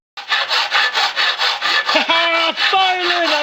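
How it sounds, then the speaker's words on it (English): A metal file rasps across a part of a giant robot to smooth it, with a quick, steady run of close, loud strokes and some squeaky scraping tones near the end. "just have to file under there a little bit"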